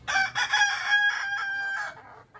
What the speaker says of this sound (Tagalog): Ito yung mga tatlong hen natin na dumalaga.